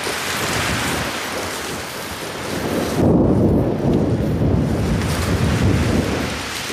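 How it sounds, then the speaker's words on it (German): Thunder in a video game rolls as a loud, deep rumble that swells partway through, layered over a steady wash of rain and wind noise, with no one talking. "Donner."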